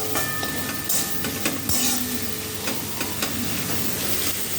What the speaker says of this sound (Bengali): এই যে পেঁয়াজ আর রসুন কাঁচা লঙ্কাটা একটু ভেজে নিই